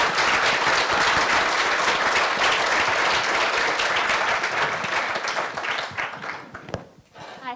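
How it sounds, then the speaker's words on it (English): Audience applause for the panelists at a forum on Egypt, a dense, steady wash of many hands clapping that thins and fades toward the end, leaving a few scattered claps. "I'd like to just give one round of applause for all of the panelists"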